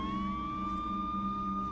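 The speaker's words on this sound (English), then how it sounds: "There's an ambulance for no reason." A video-game ambulance siren sounds as a steady, clear electronic wail holding a sustained tone at moderate, somewhat distant volume, with no other sounds.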